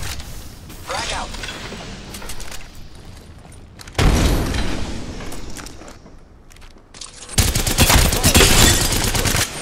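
Gunfire bursts and a frag grenade blast in Apex Legends, with loud broadband booms at about four seconds and again near seven, rapid weapon fire between, and in-game voice callouts layered over the combat.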